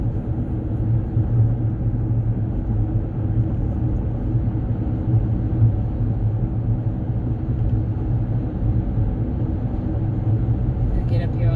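A 2009 Nissan Murano on a test drive gives a steady, low cabin rumble of engine and road noise with little change, heard from inside the car.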